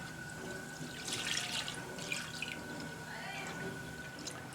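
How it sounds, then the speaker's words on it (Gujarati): Milk is poured into a kadai pan holding a little water for doodh paak, a faint splashing trickle that swells for a couple of seconds in the middle, with light clinks and quiet kitchen background. "હવે આપણે તેમાં આપણું દૂધ ઉમેરી દઈશું"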